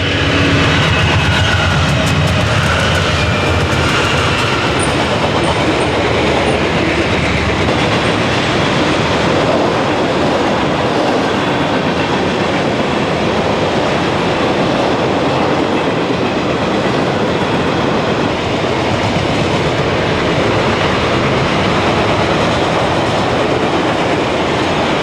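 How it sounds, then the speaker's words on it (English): A long westbound freight train of tank cars and general merchandise, hauled by a pair of GE wide cab locomotives, rolls past close by with a loud, continuous roar and wheel clatter that carry on unbroken throughout. "A long westbound train of tank cars and general merchandise, powered by a pair of GE wide cabs,"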